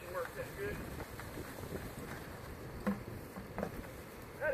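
A faint, steady insect buzz, like bees, under wind noise outdoors, with a few louder bumps against the microphone.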